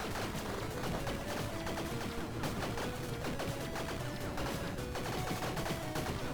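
Dense, continuous barrage of small explosions and crackling blasts from the action roguelike game Tiny Rogues, loud and unbroken, layered over steady game music with no talking.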